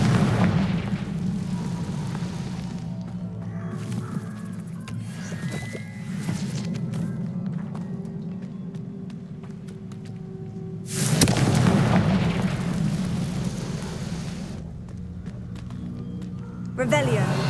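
Repeated Confringo fire-spell blasts from Hogwarts Legacy burst out as booming explosive hits over a rumbling game soundscape, with voices shouting during the action.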